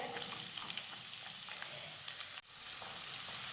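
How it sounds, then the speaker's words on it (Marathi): Finely chopped onions fry in hot oil with a steady, close sizzle that runs throughout, briefly dipping for a moment before resuming at full strength. "आता हा कांदा हलक्या गुलाबी रंगावर परतून घेऊयात"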